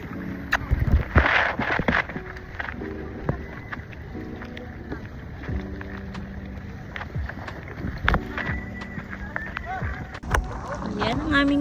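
A small wooden outrigger bangka in El Nido, Palawan, rumbles along on the water with steady engine and hull noise, while voices talk over it throughout.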